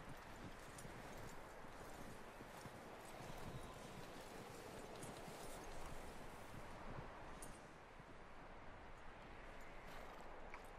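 Steady clip-clop of horse hooves at a walking pace, fairly close, with a constant wash of ambient outdoor noise beneath and no talking, from the video game Red Dead Redemption 2.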